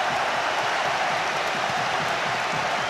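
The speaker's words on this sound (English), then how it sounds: "just listen to the applause ringing around Anfield" Stadium crowd at Anfield applauds a goal during a Euro 96 football match between Russia and the Czech Republic, a dense, continuous roar of clapping filling the ground, loud and sustained.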